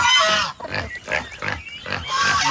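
Several farm pigs grunt and oink repeatedly, close by and fairly loud, in bursts with short pauses; the pigs had escaped their pen on a rural vegetable farm in the Philippines.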